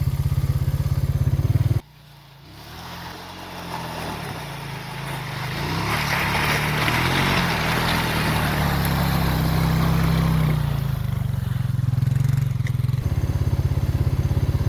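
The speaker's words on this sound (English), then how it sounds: "I don't like to take my four-wheeler bogging." A four-wheeler ATV churns through roughly two-foot-deep trail water in the woods, its engine droning loud and steady with a rushing, splashing wash after a brief drop near the start.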